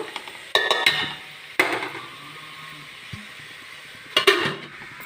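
A pot of chana dal and amaranth-stem curry is stirred, with three sharp metallic clanks of a utensil and lid against the pot between quieter scraping.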